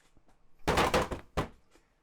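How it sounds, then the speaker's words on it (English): Heavy creatures slamming their bodies against a locked door from the other side, heard as two loud, dense thuds in quick succession followed by a third sharp impact and a faint knock. "Vorgris after Vorgris body slams into the locked door from the other side"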